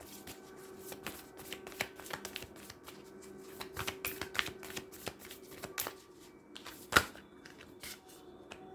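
Tarot cards being shuffled by hand in a steady run of soft riffling flicks and taps, close and fairly quiet, with one sharper snap near the end and no talk over it.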